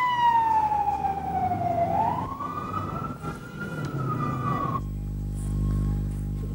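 Emergency vehicle sirens sweep loudly through Athens streets after a 5.9 earthquake, a rising and falling wail over dense traffic rumble that cuts off abruptly into a low steady engine drone.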